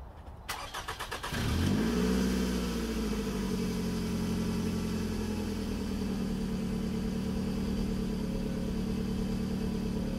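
A car engine cranks briefly, catches and settles into a steady, close idle that runs on alone without talk.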